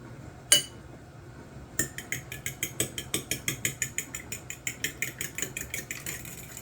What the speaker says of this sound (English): let's get these eggs beat